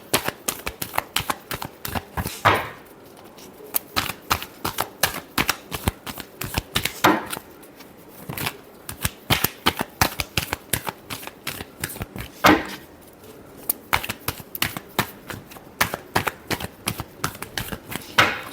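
Tarot cards are shuffled in repeated rapid bursts of crisp riffling and slapping, clustered runs separated by brief pauses, close and dry with no talking.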